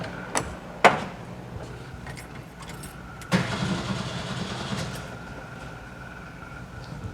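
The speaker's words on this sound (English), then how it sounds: "Cold start, turn the key." A 1972 VW Bus with a newly installed 38mm carburetor is cold started: a click, then a short crank as the engine catches and settles into a low, rough idle, with no one talking.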